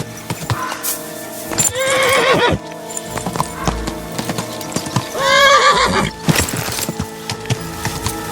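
Two loud horse whinnies ring out a few seconds apart, with steady clip-clopping hooves throughout, sounding close and somewhat synthetic, from the video game Kingdom Come: Deliverance II.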